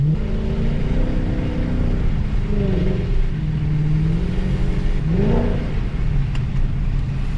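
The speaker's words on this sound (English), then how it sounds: "This car has a more toned, I would say almost E92-esque sound to it" A Mercedes C63 AMG engine hums and revs nearby with a deep, steady rumble during a winter night drive, the pitch rising and falling a few times over continuous road noise.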